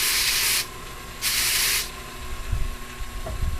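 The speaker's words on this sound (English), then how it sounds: "Then I use the burnishing tool and just run it lightly over" Burnishing tool run lightly over fiber building up on the big drum of a drum carder, two soft brushing hisses of about half a second each, followed by quieter rubbing and handling sounds.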